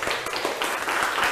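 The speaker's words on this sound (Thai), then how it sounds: "ปรบมือให้" Students applaud in a classroom during a primary-school maths lesson, a steady patter of many hands at moderate distance, fairly soft and even throughout.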